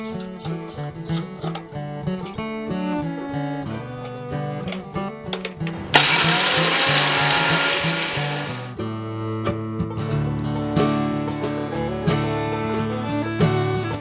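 Electric grinder whirring loudly for a couple of seconds as it grinds roasted cumin and dried chillies, the burst set between stretches of background music.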